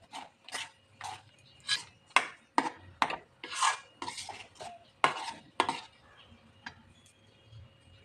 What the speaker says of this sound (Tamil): கொஞ்சம் ஏலக்காய் பொடி கொஞ்சம் நெய்யும் போட்டு கிளறும்.